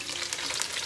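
Onions sizzle steadily in olive oil in a hot pan, a dense continuous frying hiss with faint crackle, close and alone without voices.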